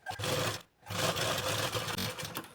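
A sewing machine runs in steady loud bursts while stitching a fold of blouse lining, pausing briefly partway before the motor picks up again.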